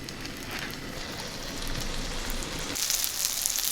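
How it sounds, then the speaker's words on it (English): A tablespoon of vegetable oil crackles and sizzles in a heated pan, a close, steady hiss with dense popping that grows a bit brighter and louder toward the end; no one speaks. "The pan is heated. Just adding a tablespoon of vegetable oil."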